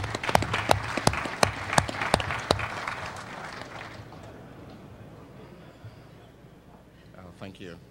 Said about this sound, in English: if you could please give him a round of applause so he feels comfortable